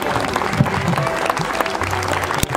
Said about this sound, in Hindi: जोरदार तालियां पहले तो दोनों मेहमानों के लिए